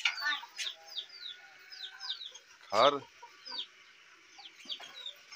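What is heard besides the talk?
rooster clucking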